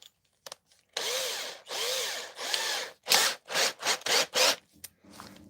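A steel file spun in a power drill grinds in short bursts against a guitar in a workshop: several loud, rasping runs of a second or so, then quicker choppy passes, with pauses between them.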